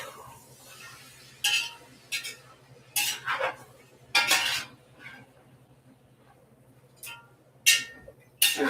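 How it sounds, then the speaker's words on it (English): A slotted spatula scrapes and clinks against a pot of Boston baked pork and beans in irregular bursts separated by quiet pauses, close and with no talking. "That's why I'm using a slotted spatula."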